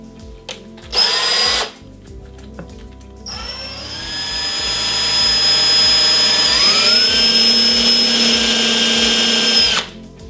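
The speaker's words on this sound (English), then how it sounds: "I'm going to go ahead and attach my small drill bit and start drilling" A power drill with a small bit whines loudly and steadily as it drills into a tripod, with a brief burst before the main run, its pitch climbing and settling as it bites in, then cutting off.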